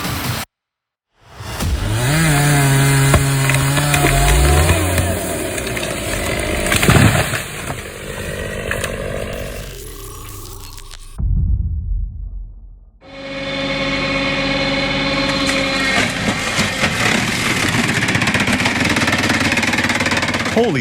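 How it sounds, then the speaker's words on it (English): An extreme automatic firewood processor with a giant chainsaw runs loud and close, a harsh sustained mechanical roar with knocking bursts, a brief drop to near silence, then the machine's heavy roar resumes. "This JBL log splitter is a monster."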